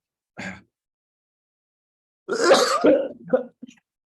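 A short cough, then a harsh burst of coughing and throat clearing with a few gravelly grunts, close and fairly loud.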